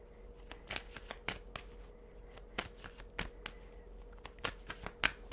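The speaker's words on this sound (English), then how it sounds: "One more shuffle, please." A deck of tarot cards is shuffled close up and quietly, with repeated crisp riffling bursts and soft slaps arriving in an uneven rhythm against a hushed room.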